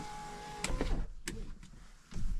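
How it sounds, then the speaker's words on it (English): Power front windows on a Polaris Ranger XP1000 Crew Northstar UTV, giving a short electric motor whir with a couple of faint clicks at close range, no talking. "power front windows, which is a really handy feature for both sides"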